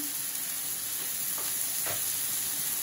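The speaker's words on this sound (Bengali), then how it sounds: "এখন আলুটা কষিয়ে নিতে হবে, মানে ভেজে নিতে হবে আর কি" Potatoes fry in a pan with a steady, even sizzle, with faint stirring scrapes now and then, close and continuous with no voices.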